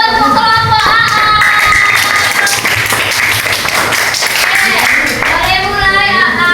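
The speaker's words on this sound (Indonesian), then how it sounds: "Tepuk tangan dulu untuk kelompok AA" Elementary school children clapping for a classroom group, a brisk patter of small hands under loud overlapping voices and chatter close by.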